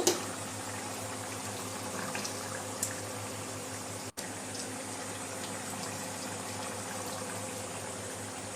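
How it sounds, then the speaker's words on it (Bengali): Desi chicken and potato curry boils under a lid in a pot, giving a steady, even bubbling hiss that runs throughout with one brief dropout midway; no one talks. "বেশ সুন্দর ফুটে উঠেছে।"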